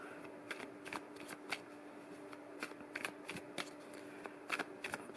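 Tarot cards being shuffled in quick riffling bursts, close and crisp, repeating at irregular intervals in a quiet room.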